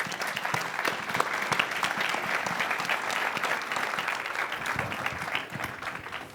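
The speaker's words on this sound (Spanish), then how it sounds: "Un aplauso, por favor." Audience applause welcoming a speaker at a nerd-night talk on quantum mechanics: dense, steady clapping from a full room, close and sustained throughout, easing slightly near the end.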